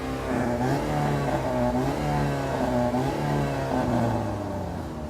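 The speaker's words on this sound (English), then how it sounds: "You can listen to the power and fury of all 4 cylinders" Four-cylinder engine of a 2013 Cadillac ATS revving, a loud, close, steady drone with pitch swelling and easing in several rises and falls, with no talk.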